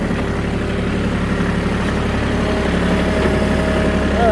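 A Bobcat 610 skid steer engine runs steadily while the machine reverses, a loud, continuous low diesel chug that stays close and even throughout.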